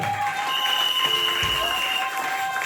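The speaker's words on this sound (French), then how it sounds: "Applaudissez le Seigneur." Congregation at a church wedding ceremony applauding and cheering, a steady dense wash of crowd noise with sustained tones running through it, fairly loud throughout.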